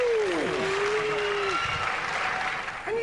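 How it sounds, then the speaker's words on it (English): Studio audience applauding a Robot Wars celebrity special competitor, a steady wash of clapping that holds loud throughout, with a voice speaking over it. "Let's hear it for Shane Lynch and Chromalot"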